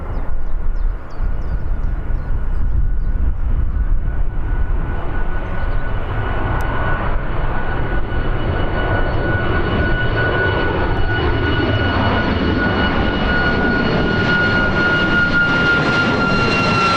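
A jet airliner departing Birmingham airport bound for Krakow roars steadily and loudly for the whole stretch, a rising engine whine riding over a broad rumble with no pauses.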